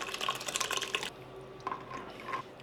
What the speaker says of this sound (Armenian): Վրան լցնում ենք եռացրած, սառացրած ջուր ու ուղարկում ենք 2 ժամով սառնարան